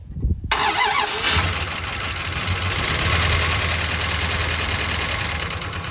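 A 1971 Dodge Charger Super Bee V8 engine cranks and roars to life, then settles into a loud, steady, rumbling idle with deep low-end throb.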